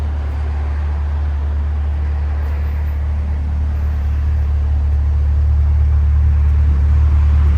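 A Chevrolet C8 Corvette drives along country roads, its engine and road noise forming a steady, loud low drone heard from inside the car. The sound swells slightly toward the end, and no one speaks.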